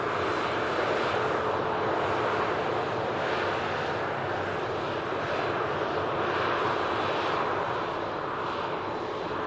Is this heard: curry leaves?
no